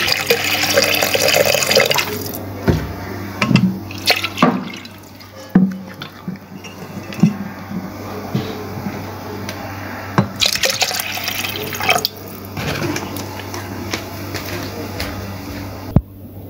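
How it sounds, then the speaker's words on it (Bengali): Water is poured into a pressure cooker pot holding lentils, onion, garlic, chilli and a little oil, filling with splashing and trickling in several bursts up close, with clattering of the pot between pours and no talk. "আর দেব পানি।"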